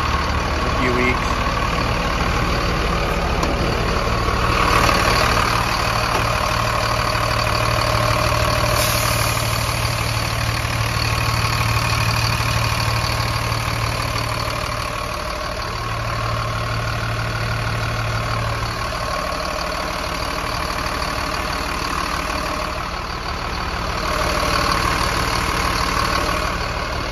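A 2008 Thomas pusher school bus sits idling with a steady, droning engine hum held at a constant level throughout, near and fairly loud, with a faint whine on top and no talking.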